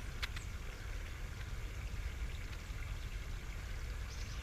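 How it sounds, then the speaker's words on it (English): Water trickles and runs inside a corrugated French drain pipe, a faint, hollow, steady flow with a low rumble beneath and a brief sharp tap near the start. "See if you can just hear that water running inside there."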